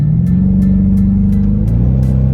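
A Dodge Charger R/T's 5.7 engine rumbles steadily with a deep, throaty exhaust note that holds loud and close throughout.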